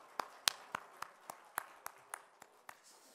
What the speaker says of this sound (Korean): 우리 찬양 받으신 하나님께 영광의 박수 올려드릴까요?